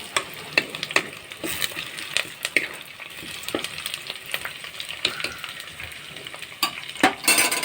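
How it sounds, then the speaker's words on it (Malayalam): Curry leaves stirred into shallots frying in hot oil for a Palakkad-style sardine chilli curry: a close, steady sizzle crackles under repeated scraping strokes of a spoon against the pan. "കറിവേപ്പില ചേർത്ത് ഒന്ന് മിക്സ് ചെയ്ത് കൊടുക്കുക."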